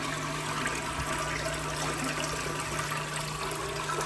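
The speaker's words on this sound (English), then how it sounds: "There you go, much better flush." A toilet flushing while its handle is held down for about ten seconds to fix a weak flush, a steady rushing and trickling of water throughout, close and fairly loud with no talk.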